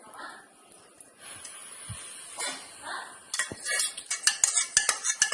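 A spoon stirring mustard-chilli oil into a turmeric pickle mix, scraping and clinking against the bowl, sparse at first and then quick and rhythmic near the end, with a dog barking faintly in the background.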